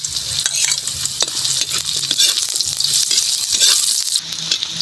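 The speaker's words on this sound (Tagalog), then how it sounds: "Ito sa ating bawang. Luya. Sibuyas." Garlic, ginger and onion sauté in a hot pan for a Bindonggo de Aklan home dish, giving a loud, continuous sizzle with repeated scraping stirs close by and no voices.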